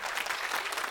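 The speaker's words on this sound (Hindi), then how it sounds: "एक बार जोरदार तालियां उनके लिए" A crowd at a Hindi-language welcome ceremony in New Delhi claps together in a brief, dense burst of applause, steady and fairly loud throughout.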